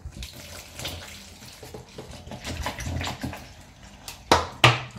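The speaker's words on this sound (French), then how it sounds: "J'ai ma petite bouteille d'eau volvique et je vais mettre ça dedans." Bottled Volvic water glugs and splashes as it is poured into a container for a ginger mass-gainer shake, a continuous close pour ending in a couple of louder sloshes.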